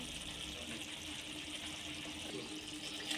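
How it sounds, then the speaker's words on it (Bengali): Water pours steadily into a pan of seared meat curry with cauliflower, a continuous soft gushing wash with no voices. "এবার ওর মধ্যে জল দিয়ে দেব"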